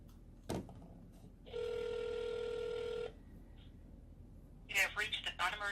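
An outgoing call to a county public safety non-emergency line rings once in a single steady electronic tone after a brief click, and then a recorded voice begins speaking.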